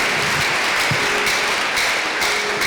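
A church congregation claps for God during a Pastor-led service: loud, sustained applause from many hands, with scattered sharper claps and no voices over it.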